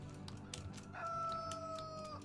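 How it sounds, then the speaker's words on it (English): A rooster in the Farming Simulator 2013 video game crows once with a drawn-out, clear call, preceded by soft clucking and farmyard ambience at low volume. "Oh, there's our rooster."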